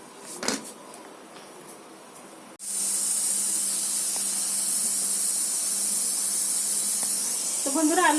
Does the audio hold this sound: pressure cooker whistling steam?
yes